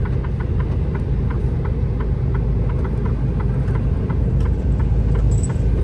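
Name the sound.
heavy truck traffic on the Jeddah to Riyadh road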